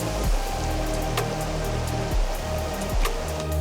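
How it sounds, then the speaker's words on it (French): The Gué-Vif, a mountain torrent in the Cirque de Saint-Même, rushing close by with a loud, continuous broadband roar of water and a few low thumps, no voices. "Donc là vous devez normalement entendre le ruisseau, donc enfin le torrent plutôt, du Gué-Vif donc qui passe juste à ma droite"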